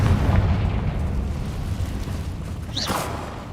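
A Confringo fire-blast spell goes off in Hogwarts Legacy: a sustained booming explosion with heavy low rumble, then a sharp crackling burst near the end, loud and close with no talk.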